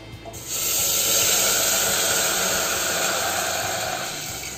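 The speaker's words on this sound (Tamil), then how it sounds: "இப்போ அந்த தண்ணியை வந்து நான் இந்த நெய்யில் ஊற்றிடுறேன்." A loud, steady sizzling hiss as already-boiled water is poured into hot ghee for pineapple kesari, starting abruptly and holding strong before easing slightly toward the end.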